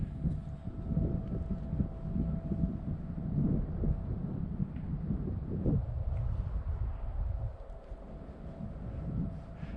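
Steady breeze buffeting the microphone at an open glider flying field, a continuous low rumbling roar that swells and eases without pause, with no talking.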